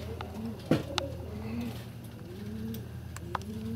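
Pigeons kept by a pigeon fancier coo softly in a low, repeated rumble, with occasional sharp wing claps or knocks over a steady background hum; no talking.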